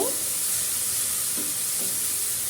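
Spices, including coriander powder, sizzle steadily in hot oil in a pan for a chicken curry with papaya, giving a constant close hiss with a few faint stirring sounds and no speech.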